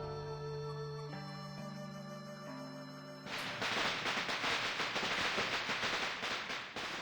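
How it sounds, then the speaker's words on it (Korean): Bamboo firecrackers burst in a dense, loud crackling run that starts suddenly about three seconds in, after a stretch of sustained tonal music, and keeps popping steadily to the end. "대나무 폭죽!"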